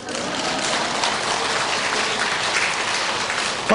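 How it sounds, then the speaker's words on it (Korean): Audience applause fills a lecture hall at a Won Buddhist volunteer association's national leaders' training, a steady, dense clatter of many hands, loud and continuous throughout with no voices over it. "첫 번째 부교무가 왔어요. 박수 안 쳐요?"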